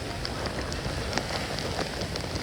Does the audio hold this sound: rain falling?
yes